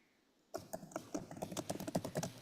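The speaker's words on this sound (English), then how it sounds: "I can't hear you, but I can hear you typing away." Rapid, irregular clicking of keys on a computer keyboard, close and fairly quiet, beginning abruptly after a moment of near silence and continuing steadily.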